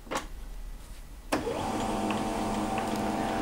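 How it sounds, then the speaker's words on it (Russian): A click, then a printer whirs to life as it powers on, with a steady motorized hum and faint mechanical ticks, running continuously afterward. "И включаем наш принтер."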